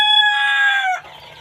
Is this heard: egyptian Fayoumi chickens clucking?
yes